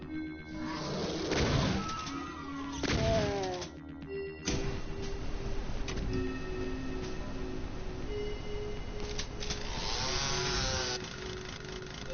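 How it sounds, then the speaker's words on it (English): Chainsaw weapon from the Game Boy Advance port of Doom, a buzzing, stuttering motor drone that runs through most of the stretch amid other harsh, clanking game effects, with no talking. "then we've got the chainsaw."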